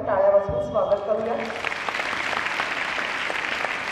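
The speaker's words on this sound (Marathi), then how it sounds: "आपण टाळ्या वाजवून स्वागत करूया" An audience at a girls' high school Republic Day function applauds to welcome the chief guest, steady clapping that swells and continues after a voice speaks over the start.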